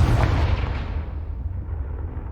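The Confringo fire blast spell in Hogwarts Legacy bursts with a loud, close explosive boom that rolls off into a fading rumble.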